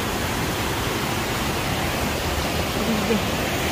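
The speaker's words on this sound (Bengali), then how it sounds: "শুধু ঝর্ণার শব্দই শুনতে থাকেন।" A waterfall on a mountain hillside in Italy gives off a steady, broadband roar, loud and unbroken, with no letup or distinct splashes.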